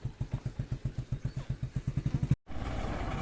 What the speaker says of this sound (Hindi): 2 व्हीलर पे अभी चाचा जी, मैं और छोटा भाई हम जा रहे घर पे